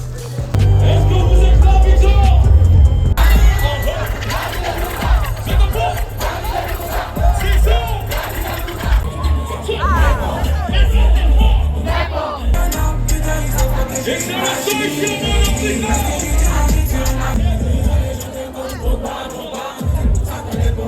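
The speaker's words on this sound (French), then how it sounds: "Là on est dans la foule, on va essayer de passer un peu." A dense street crowd in Abidjan, loud and close, with a constant jumble of many voices, shouts and movement, low rumbling underneath and no pause throughout.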